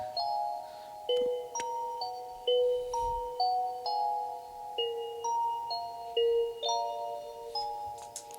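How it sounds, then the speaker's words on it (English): Bright electronic bell tones ring out in a repeating melodic pattern, each note swelling in as a reversed bell hit that leads into the next section. "So I just put a little bell hit onto Edison, recorded it, pulled it back in, reversed it"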